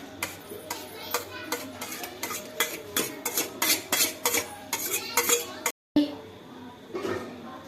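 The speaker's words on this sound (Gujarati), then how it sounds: "હું નાખું ટમેટા મેગીમાં." Tomatoes tipped into Maggi noodles in a pan, with a steady run of metal utensil clinks and scrapes against the pan, repeated rhythmically over background voices.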